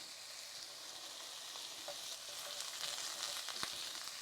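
Minced ginger hits a pan of cooked vegetables for a Korean ground beef chow mein, giving a soft, steady frying sizzle with a few faint stirring clicks.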